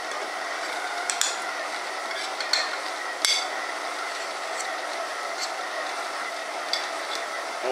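A stand mixer kneads shortbread dough at low speed, giving a steady whirring churn with scattered knocks and clicks, close and even for the whole stretch, with no talking.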